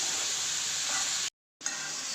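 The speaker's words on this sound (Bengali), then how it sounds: "ইলিশ মাছের কাঁটা দিয়ে আজকে শালগম রান্না করতেছি। এটা কষিয়ে নেব।" Turnip with hilsa fish bones stir-fries in a hot pan, a steady loud sizzle and hiss that cuts out briefly, then resumes.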